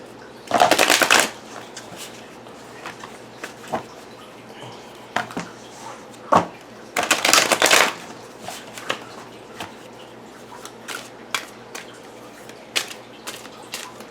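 A tarot card deck being shuffled, with two loud riffling bursts near the start and midway, separated and followed by softer scattered taps and card handling.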